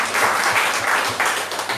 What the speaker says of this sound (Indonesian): Tepuk tangannya buat Tuhan Yesus.